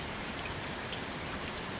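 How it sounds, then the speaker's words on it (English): Heavy rain pours down onto a street, a dense, steady hiss of water that stays constant throughout without any pauses. "This happened with lots and lots of rain."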